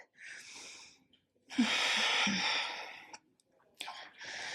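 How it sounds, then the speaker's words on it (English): Close breathy inhales and long exhales from a person during a Pilates reformer jumpboard workout, in several separate breaths with pauses between. "Breathe."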